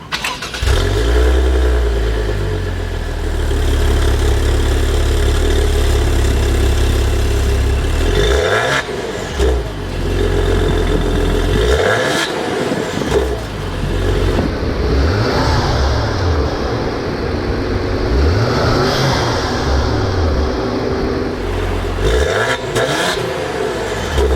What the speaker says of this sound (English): So let's start it up and see how it sounds.